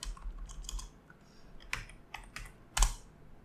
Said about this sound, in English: So I'll go to new window here and just type in localhost 5678.